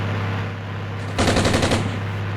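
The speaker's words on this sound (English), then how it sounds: "Nervous, fire the weapon." A rapid burst of automatic weapon fire in the Armored Brigade war game, about half a second of sharp repeated shots over a constant low in-game engine hum.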